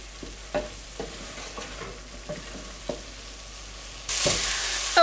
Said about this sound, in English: You're going to cook this for about 5 minutes until the meat is completely done and the onions are translucent and soft.